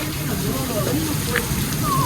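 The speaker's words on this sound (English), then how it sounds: "There is so much rain." Heavy rain pours down at night near a beach, a dense, constant roar of falling water with indistinct voices faintly beneath it.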